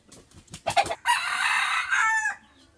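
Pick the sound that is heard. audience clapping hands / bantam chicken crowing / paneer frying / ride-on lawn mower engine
bantam chicken crowing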